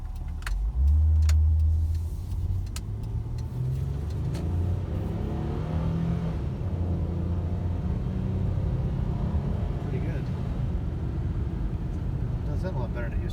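A Nissan Maxima engine, after a 100,000-mile tune-up with new valve cover gaskets and spark plugs, pulls steadily uphill, a continuous close rumble with a strong low drone from the cabin, no talk during the climb.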